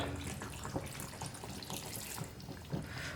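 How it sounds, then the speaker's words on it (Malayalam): Hot water pours in a steady, rushing stream into a pan of Goan chicken vindaloo, a continuous splashing gush with no voices, fairly faint. "ഞാനിതിലേക്ക് കുറച്ച് ചൂടുവെള്ളമാണ് ഒഴിച്ചു കൊടുക്കുന്നത്."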